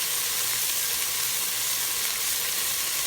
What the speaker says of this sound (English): I've got the bell peppers in the pan sauteing